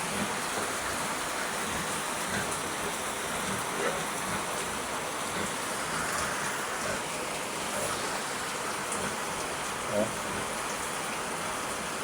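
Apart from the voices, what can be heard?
rain falling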